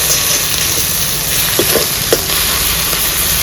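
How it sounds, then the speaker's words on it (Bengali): Onions frying in oil in a pan for a stingray fish curry, giving a loud, continuous sizzle with a few soft stirring knocks. "পেঁয়াজগুলো একটু লাল লাল করে ভাজা নেব।"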